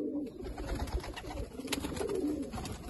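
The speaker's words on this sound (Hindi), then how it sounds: "तो एक और कबूतर है, ये टैडी नस्ल है" A Teddy breed pigeon coos in low, rolling phrases, close and clear, two soft bouts with a brief pause between them over faint background noise.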